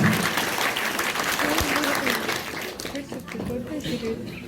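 Applause from an audience at a formal gathering honoring a teacher's family, a dense wash of clapping that fades toward the end while someone speaks over it.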